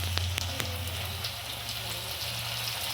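Tomato added to onions frying in a pan gives a soft, steady sizzle and crackle with a few sharp pops, fairly quiet throughout.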